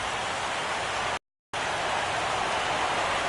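Steady rain pours down during a baseball video game between the Atlanta Braves and Cleveland Indians, a continuous hiss that drops out for a moment before resuming at the same even level.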